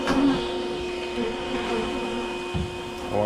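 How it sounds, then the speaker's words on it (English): A bee removal vacuum runs close by as a steady, loud drone with a constant tonal whine, sucking up clustered bees from a hive, with slight surges in level near the start and end. "I'm gonna turn up my vacuum just a little bit."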